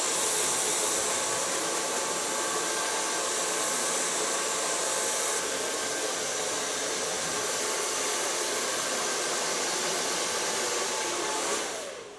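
A hair dryer blows steadily on hair with a loud, constant whooshing roar close by, running unbroken for over eleven seconds before cutting off at the end.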